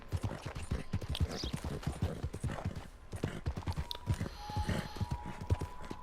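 Hoofbeats of a horse in Red Dead Redemption 2 walking over grass, a steady run of close clip-clop steps throughout with faint game ambience behind them.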